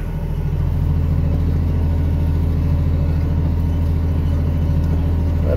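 Case IH 7140 Magnum tractor plowing a field, its engine a steady, loud, low diesel drone with a rhythmic throbbing pulse that holds constant throughout without any talk.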